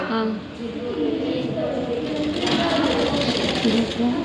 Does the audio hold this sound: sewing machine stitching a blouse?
yes